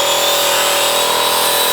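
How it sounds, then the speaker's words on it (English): An angle grinder grinds surface rust off steel shed braces, a loud, steady high-pitched whine with a dense abrasive roar, close and continuous throughout. "he's grinding the surface rust off prior to painting"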